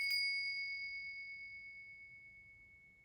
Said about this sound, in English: watch your ears if you're wearing headphones because I want to ring the bell